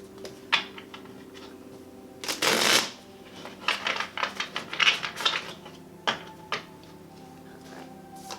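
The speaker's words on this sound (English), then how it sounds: "So let's pull one card here for a final message." Tarot cards are shuffled in a quiet indoor setting, giving a burst of riffling near the middle, then scattered short flicks and taps of card on card, close by with no speech.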